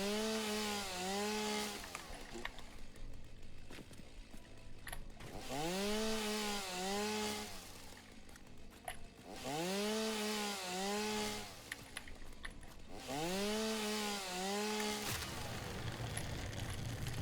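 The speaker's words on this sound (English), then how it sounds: "Two trees with one chainsaw movement." A chainsaw in a crafting video game cuts through trees in four repeated bursts, each a rising and falling engine whine lasting about two seconds, with quieter idling gaps between cuts and no talking.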